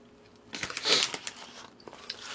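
Close-up chewing of beef from a bowl of Paldo seolleongtang instant noodles, soft crunchy bites and moist mastication that start suddenly and continue irregularly.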